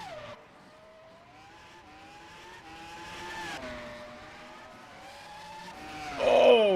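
A race car in the rFactor 2 sim racing game at Monza brakes too late, its engine note sliding downward before tires squeal sharply near the end; a steady, close, mechanical whine with no talk.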